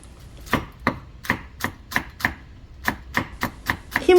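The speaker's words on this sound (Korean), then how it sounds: "G5 야채칼로 대파 한번 썰어 보겠습니다." Green onion is chopped on a board with a Global G5 stainless steel vegetable knife, about ten crisp, evenly spaced chops close up, with no voices.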